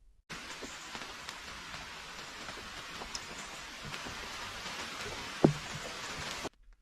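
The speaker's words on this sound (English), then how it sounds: "the sky darkened and rain started to fall. It was just a light drizzle." Light drizzle falls outdoors at a campsite as a steady, soft hiss of fine rain with scattered faint drop ticks, continuous for several seconds before cutting off.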